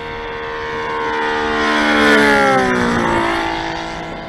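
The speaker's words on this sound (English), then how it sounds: "All right, here's full throttle." A Saito FG90 engine on an RC Corsair plane at full throttle passes by with a loud buzzing drone that swells to a peak and drops in pitch as it flies past, with no talk.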